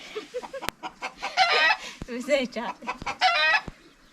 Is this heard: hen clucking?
yes